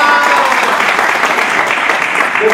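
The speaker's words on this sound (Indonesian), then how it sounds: "Coba tepuk tangan yang bener dulu" A church congregation claps together, loud, close and continuous, with a little crowd murmur mixed in.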